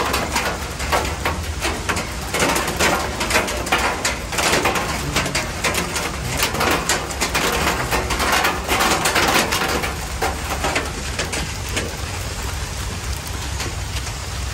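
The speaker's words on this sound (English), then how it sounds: "What do you think of those birds, Herc?" Pigeons or doves coo and call close by over a steady patter of rain on a surface, with the birds sounding repeatedly for about fourteen seconds and no one speaking.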